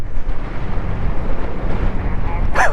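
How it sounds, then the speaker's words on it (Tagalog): Strong cold wind roars across the microphone during an off-road scooter ride over a mountain road, a steady low rumble that stays loud and constant throughout. "Grabe naman ang hangin na to."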